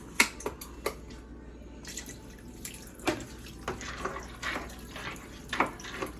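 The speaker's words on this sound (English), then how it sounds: "Instead of adding more water, let's add some chicken broth." Chicken broth poured over macaroni noodles in a pot for seafood macaroni and cheese, giving a soft, steady liquid splash with a few sharp drips and clicks, close and fairly quiet.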